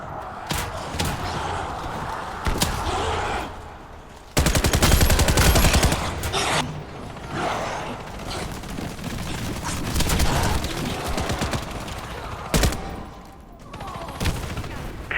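Dense automatic gunfire in the first-person shooter Warface, loud and sustained with rapid bursts, heavy impacts and a thick battle din throughout.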